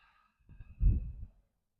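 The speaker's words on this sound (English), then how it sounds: "And exhaling to release." A single deep, slow exhale through the body during a morning yoga cleansing breath, soft and close, rising to a breathy peak and fading out, with no talk.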